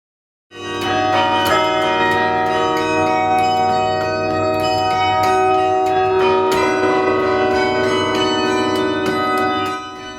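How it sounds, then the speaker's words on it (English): Bells of Sather Tower, the Campanile on the Berkeley campus, peal a loud, resonant melody of overlapping struck tones that ring on and sustain throughout, with no voices. "The bells of Sather Tower,"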